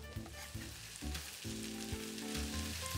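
Smashed garlic sizzles steadily in a hot pan, a close, continuous frying hiss broken by a few low clunks of a utensil against the pan, with no talking.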